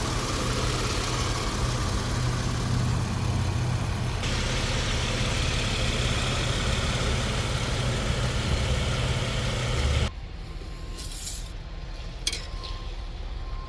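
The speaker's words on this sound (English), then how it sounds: "The vehicle is currently running. Engine sounds good." A 2015 Toyota Sienna AWD minivan engine idles with a steady, rumbling drone for about ten seconds, then drops off sharply, followed by quieter ambient noise and a faint clink.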